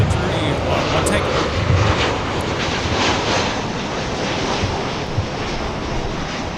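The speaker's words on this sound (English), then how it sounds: "So we got Alaska coming in with the honoring those who serve livery" An Alaska Airlines jet in Honoring Those Who Serve livery approaches LAX, its engines making a steady broad roar that stays loud and even throughout, with voices talking over it.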